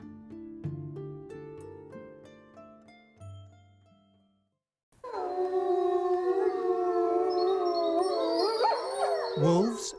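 Wolves howl in long, rising and falling wails that overlap into a loud chorus, preceded by a softer, musical stretch.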